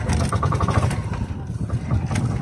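A fishing boat's logger engine runs close by with a loud, steady, throbbing chug and no pauses over the short stretch.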